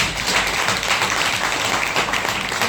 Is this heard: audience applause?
yes